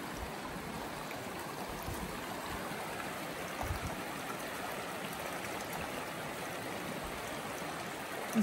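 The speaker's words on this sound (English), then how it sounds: "Nice little river, nice little sound to be near." Steady rushing of a small river flowing beside a campsite in Waterville Valley, New Hampshire, a continuous broad wash of water that is close and even throughout, with no voices.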